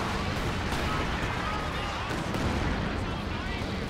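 A Werfer rocket artillery barrage in Company of Heroes 2 rolls on as a dense, continuous roar of overlapping blasts and rumble, loud and unbroken throughout.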